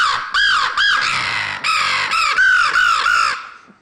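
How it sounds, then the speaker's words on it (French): A hand-blown crow locator call, used by a hunter to locate wild turkey, gives a close, loud run of about eight harsh caws in a quick, uneven rhythm with nothing else behind it. "toutes ces notes-là vont nous donner une son de corneille"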